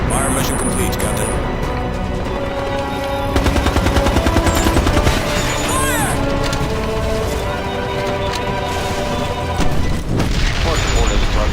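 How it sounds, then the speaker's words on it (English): Air strike on the battlefield in Ghost Recon Advanced Warfighter, with heavy booming explosions, bursts of machine-gun fire and radio voices talking throughout. "Captain to air! Begin your attack!"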